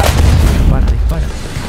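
Tank cannon fire from the War Thunder game, featuring the Type 4 Ho-Ro self-propelled gun: a loud, dense low boom rolling through the whole short burst, with a voice faintly under it.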